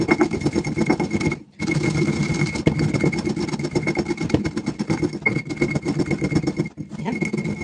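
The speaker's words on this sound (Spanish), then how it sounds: "Vamos a moler ahora nuestra sal." Coarse salt being ground in a volcanic stone molcajete, a steady gritty scraping that runs continuously with a couple of short pauses, close and fairly loud, with no talking.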